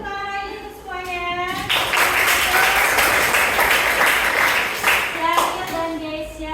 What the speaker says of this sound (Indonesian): Kita tepuk tangan lagi untuk semuanya